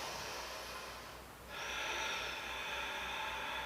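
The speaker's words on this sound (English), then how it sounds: "So I'm going to take a couple big breaths here" A deep breath drawn in and released during a barre workout, airy and close, a soft inhale fading before a louder, longer exhale of breathy rushing air.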